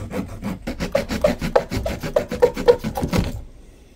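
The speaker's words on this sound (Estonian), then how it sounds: "näiteks kui ma saen seda." An object is sawn by hand to make fine dust for tinder, with about ten steady, rasping back-and-forth strokes, loud and close, before the sawing stops abruptly.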